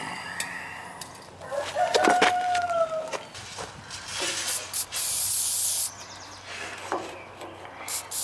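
Lubricant sprayed onto the lock collar of a Trackless MT5T snowblower during a rebuild, a close, loud hissing burst of a little over a second, surrounded by clanks, faint squeaks and workshop handling noises.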